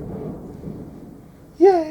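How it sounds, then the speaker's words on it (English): A thunderstorm rumbles low and steady in the distance, a soft continuous roll heard alone, cut off at the end by a brief louder tonal sound. "Yay, thunderstorm in the background."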